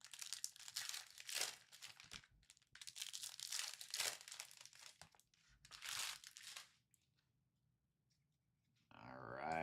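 Trading card packs being torn and ripped open, with loud crinkling foil bursts in several waves and short pauses between them, close up at a home case break of Bowman's Best university football cards.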